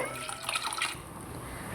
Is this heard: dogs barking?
no